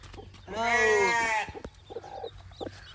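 A loud, drawn-out harmonic call close by, like a bleat or crow, followed by faint scattered clucks of chickens with chicks and rustling.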